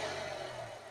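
A 2002 Volkswagen Passat B5 with a 1.8 turbo petrol engine runs with a steady, fairly quiet hum and a faint tonal drone, heard only briefly and slightly fading toward the end.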